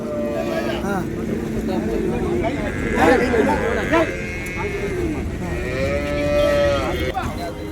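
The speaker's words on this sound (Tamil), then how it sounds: "பசு மாடுங்கள்லாம் பாருங்கள் எவ்வளோ அழகாக இருக்குது" Cows moo repeatedly at a cattle market in Vaniyambadi, drawn-out low calls overlapping one another, with a person talking over them outdoors.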